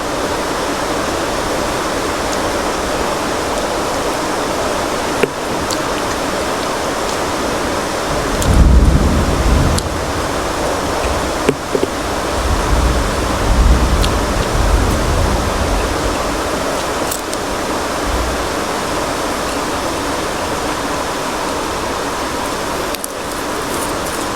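Heavy rain pours steadily and loudly at close range, a dense continuous hiss that swells briefly into a deeper rumble midway, with no talking.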